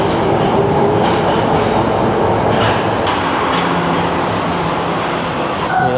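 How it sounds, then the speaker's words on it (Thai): A train rumbles steadily with rail clatter and broadband noise, the loud rolling sound of carriages arriving at a station in Japan, with no talking. "รถไฟเรามาแล้วฮะไปเลย"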